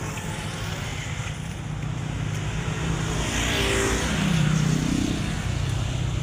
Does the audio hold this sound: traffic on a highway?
yes